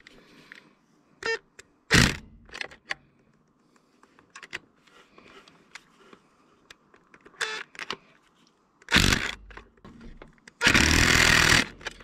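A power impact wrench tightens bolts on a Massey Ferguson MF31 tractor during a fuel-leak repair, giving several short loud bursts of rattling hammering between quieter clinks and handling noise, ending in a longer burst.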